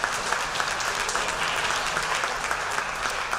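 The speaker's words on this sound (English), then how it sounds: "I want to give them a round of applause for doing such a great job." Banquet guests at a fall athletic banquet give a round of applause to the caterers from Wilson. Brisk, continuous clapping from a sizable crowd fills the room at an even level throughout.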